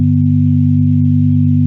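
Three pure sine tones summed into one steady electronic hum, loud and unbroken for under two seconds before cutting off, with no other sound.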